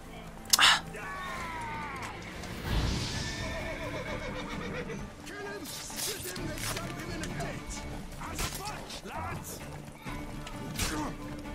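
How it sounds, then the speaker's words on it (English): A horse in The Witcher 3 gives a loud, shrill whinny right at the start. Agitated snorts and hoof clatter follow, and someone talks quietly over the game sounds. "I just wanted to help out this horse that was freaking out"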